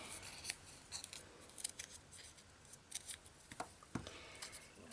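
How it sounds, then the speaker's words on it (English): Scissors snip through stacked layers of paper for paper flowers, a series of crisp, close cuts in an uneven rhythm, quiet and alone with no speech. "But you just keep stacking and snipping"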